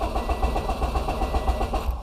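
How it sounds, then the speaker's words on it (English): A Subaru STI, freshly reflashed with a Cobb Stage 2 tune, cranks and settles into a steady idle close by, with a continuous low engine rumble and faint pulsing throughout. "We'll start the car up real quick"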